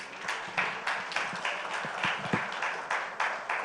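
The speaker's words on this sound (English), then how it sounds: "A round of applause, ladies and gentlemen," Applause from a conference audience after a speech, loose and uneven with distinct individual claps and repeated bursts, moderately close.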